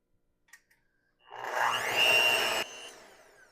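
Hand mixer or blender whirring through eggs, vanilla, yogurt and honey for a grain-free hummingbird cake batter, a few light knocks first, then a steady loud motor drone for about two seconds that drops to a lower hum.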